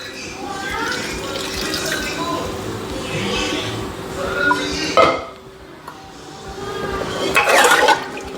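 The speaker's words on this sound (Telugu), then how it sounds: "వాటరే వేసేస్తున్నా" Rice-washing water is poured into a cooking pot for biryani, with splashing and filling sounds that build in bursts against a metal pot. Background voices can be heard underneath.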